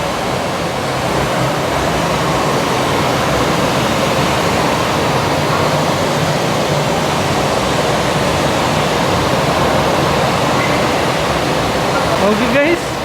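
Water installation styled as a waterfall at Arte Museum Dubai, a steady loud rushing wash of falling water filling the whole stretch without pause, with a brief knock near the end.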